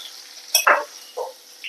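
Chopped onion sautéing with turmeric in a pan for a Kerala pumpkin pulingari, with a few short sizzling bursts and brief stirring scrapes against quiet background.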